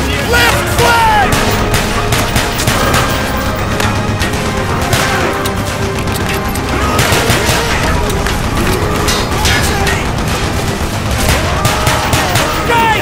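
Dense, loud gunfire in the Call of Duty: Black Ops Vorkuta mission, with enemy pistols mixed into nonstop shots, booms and explosions, as voices shout over the chaos.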